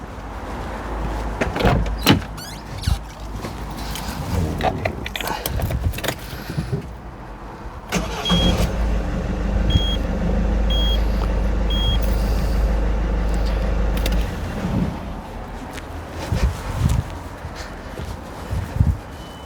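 A 2007 Peugeot Partner Escapade engine cranks and starts, then settles into a steady idle heard close up, with clunks and short beeps mixed in along the way.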